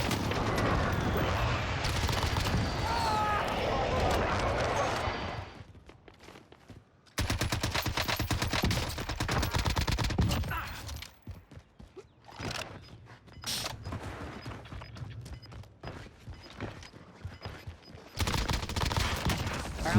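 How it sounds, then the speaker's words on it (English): Sustained machine-gun fire and rolling airstrike explosions in the video game Call of Duty Warzone, loud and dense, breaking off briefly mid-way before heavy bursts of gunfire resume. "Bringing down an airstrike."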